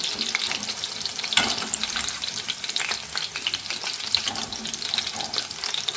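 Chicken pakoras for dragon chicken sizzle and crackle steadily in hot oil, with a continuous bright frying hiss, scattered pops and occasional stirring clatter, close and loud throughout.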